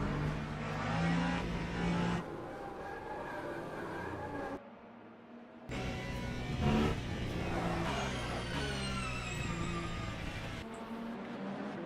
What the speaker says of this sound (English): I love the sound in these cars.